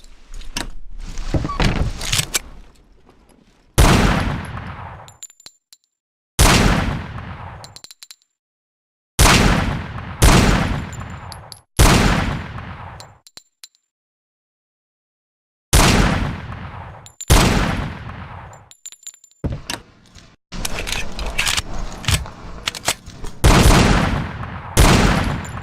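Gunfire at wooden targets on a firing range in the Hidden & Dangerous 2 video game, sharp loud bursts and single shots with decaying echoes, separated by stretches of silence.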